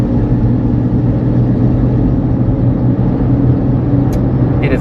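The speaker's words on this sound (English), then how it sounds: "It is very smooth and very civilized. But those tires make a lot of noise." A 2001 Mercedes ML320 cruises at highway speed, about 55 mph, as heard from the cabin: a loud, steady, unbroken rumble of tire and road noise over a low engine hum, with no talk.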